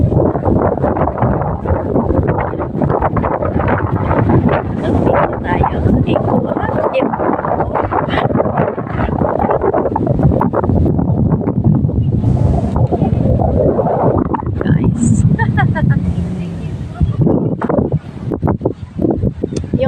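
Steady, loud wind roar blasting the microphone throughout, with a voice speaking faintly beneath it.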